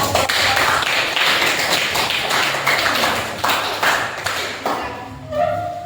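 Audience applause at a school counseling guidance session, a brisk burst of many hands clapping close by that thins out and fades toward the end.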